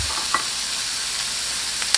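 Mushrooms fry in a pan for an English breakfast, giving a steady close sizzle with a couple of brief stirring scrapes and no talking.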